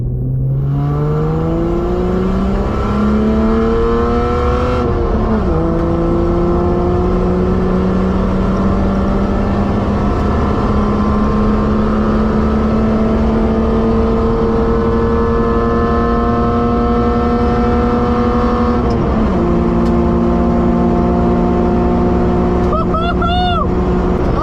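A straight-piped BMW E30 revs hard while driving, its raw exhaust climbing through gears with a loud, continuous buzzing drone and brief dips at shifts, running close and steady throughout.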